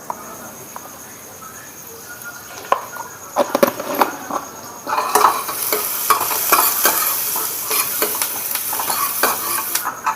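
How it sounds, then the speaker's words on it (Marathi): Chopped onion frying in a pan with turmeric as tomato goes in, a quiet sizzle that swells into a louder, busier crackle after tomato is added, with spatula scrapes and knocks against the pan. "चांगल्यापैकी कांदा आपल्या भाजायला लागलाय तोपर्यंत आपण इथं टोमॅटो पण लागलीच संगतीने टाकून देऊ"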